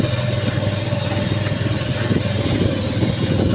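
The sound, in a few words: motorcycles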